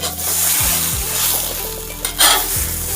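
Consomme juice hits melted vegan cheese in a hot frying pan, a loud, close crackling sizzle. A few scrapes and a sharp clatter of the pan break through near the end.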